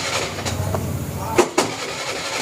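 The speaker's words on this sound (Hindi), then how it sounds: "मैं यहाँ पे इससे लगाऊंगा सेल्फ, तो यहाँ स्टार्ट नहीं हो रही है" A TVS Jupiter BS6 scooter's self-starter cranks in two short bursts against steady background noise and voices, and the engine never catches.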